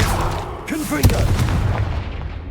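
Confringo blasting spell cast in the video game Hogwarts Legacy, a sharp booming burst near the middle, under a shouted voice and a dense rumbling battle backdrop.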